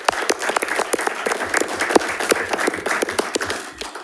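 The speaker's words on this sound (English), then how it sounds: "Can we go ahead and give her a little round of applause?" A round of applause at a school district board meeting, with many hands clapping in a close, lively, crisp patter that keeps going steadily before easing off at the end.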